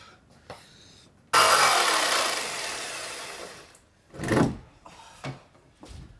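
A jigsaw run without its foot cuts a metal side panel on a Mercedes Sprinter camper van, one loud burst of harsh buzzing that fades over a couple of seconds, followed by short scraping and knocking sounds.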